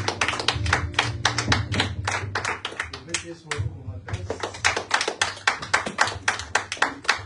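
A church congregation claps hard in steady, driving rhythm, many hands striking together and loud and close, with a short pause midway before the clapping resumes, while voices call out acclamations underneath.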